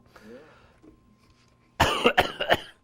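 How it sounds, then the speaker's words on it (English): A man outdoors in the White Mountains coughs in a quick burst of several harsh, close hacks after a moment of quiet murmuring. "Come back to me right as I have to cough."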